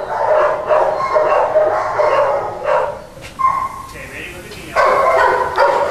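Dogs at an animal shelter bark and yip in short, irregular bursts, some whimpering, close and fairly loud, with a person talking over them at times.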